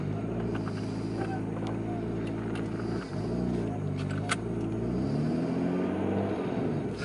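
A Nissan Skyline R32 engine pulling away in first gear, a steady low rumble with engine harmonics rising, dipping briefly at a shift or clutch break, then climbing again, with voices talking over it.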